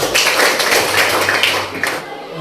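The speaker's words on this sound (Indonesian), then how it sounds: "Tepuk tangan dulu untuk" An audience at a school gathering claps together in a brief, dense burst of applause that fades near the end, loud and close.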